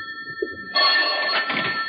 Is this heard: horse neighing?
no